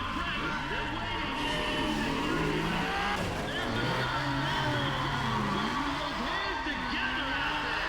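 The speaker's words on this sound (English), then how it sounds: "Today, I can hear it revving." A race car's engine revs hard with tires squealing and skidding in Need for Speed ProStreet, loud and continuous throughout, with a voice talking over it.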